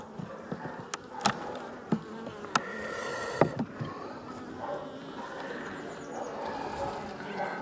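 Honey bees buzz around an open beehive while frames of honey are added, a steady insect drone with scattered sharp knocks and clicks from handling the hive.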